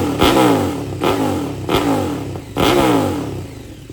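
A KTM 1290 roadster motorcycle engine revs repeatedly, four sharp throttle blips that each fall back with crackling pops, loud and close.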